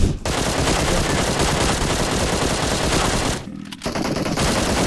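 Loud, continuous machine gun fire from PUBG Mobile hammers away in a dense burst, breaks off briefly near the end, then resumes.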